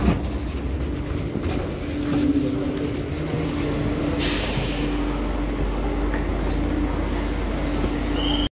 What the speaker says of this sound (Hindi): दूसरा मेट्रो आ चुका है गाइस, येलो लाइन मेट्रो